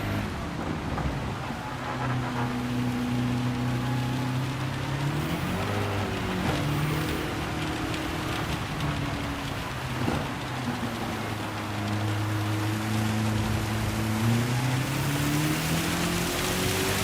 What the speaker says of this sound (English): Oh, it's really raining.